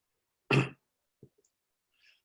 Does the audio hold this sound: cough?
yes